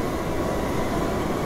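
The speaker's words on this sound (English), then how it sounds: "the legends are true! The trains! The trains!" A train rumbles steadily and loudly, a dense continuous low roar of rolling rail noise with no voices over it.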